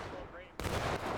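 A rifle volley in the Civil War multiplayer game War of Rights bursts in suddenly after a moment of voices, a loud broad roar of many muskets firing along a line that then keeps rumbling.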